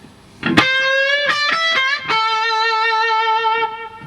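An overdriven electric guitar plays a short blues phrase: a few quick picked notes and bends, then a long sustained note ringing out alone.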